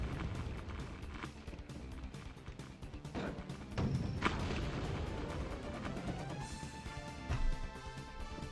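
Explosions from a video game burst out amid dense, busy game audio with music underneath, with the loudest broadband blasts near the middle and a further swell toward the end.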